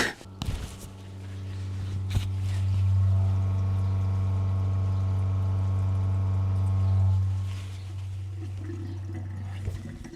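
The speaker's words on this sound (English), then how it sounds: "it does make noise while you're pumping water. Go ahead and give this a listen." Viomi V8 Pro under-sink water filter pump running with a steady low hum that swells in the middle and fades, with faint clicks and water sounds at the start and end.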